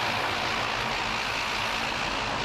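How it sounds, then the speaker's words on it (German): Airplanes on landing approach at night over Frankfurt Airport produce a continuous, dense, loud roar that stays steady and broad throughout, with no voices. "Die Punkte am Himmel, Flugzeuge im Landeanflug."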